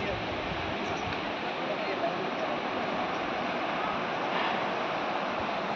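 Rushing water of the Dibang River in Arunachal Pradesh makes a steady, loud broadband roar that holds level throughout, with faint wind buffeting and no clear speech.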